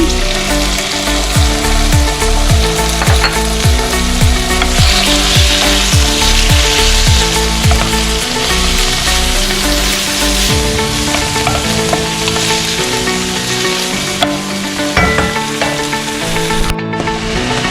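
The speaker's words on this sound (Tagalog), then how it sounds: "Stir this up. Add the mushroom." Mushrooms fry in a pan for a Filipino-style creamy shrimp alfredo while being stirred: a loud, continuous sizzle with rhythmic scraping strokes, over faint tonal background music.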